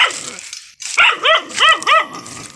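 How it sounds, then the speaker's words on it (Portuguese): A farm dog on a rural smallholding in Caxias, Maranhão, lets out a quick series of four or five sharp, close barks with yelping tones, following a brief bark just before. "por isso que tem cachorro. É cachorro aqui que não morde ninguém, mas perturba."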